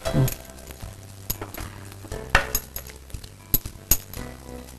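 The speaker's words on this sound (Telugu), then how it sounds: "ఇప్పుడు అంతా ఒకసారి కలుపుతున్నాను" A spoon scrapes and clinks against a pan while carrot halwa is stirred, with irregular metallic taps and scrapes over a soft sizzle, close and fairly loud with no talking.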